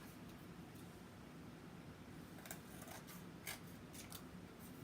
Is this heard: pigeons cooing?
no